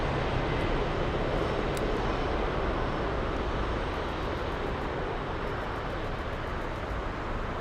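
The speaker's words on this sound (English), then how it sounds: "Atlas Air Flight 8082 inbound from Chicago O'Hare on a 747-400 freighter." Atlas Air Boeing 747-400 freighter arriving at Frankfurt, a steady broadband jet roar that stays loud and constant throughout, heard from a distance with no voices.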